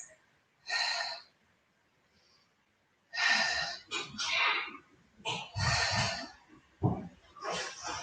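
Heavy, close breathing during a pilates workout, with a series of sharp, airy breaths and gasps in uneven bursts, some forceful, with no speech.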